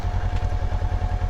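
Motorcycle engine running rough and misfiring, likely from fuel with too much alcohol, giving a loud, uneven low thumping pulse with irregular stumbles.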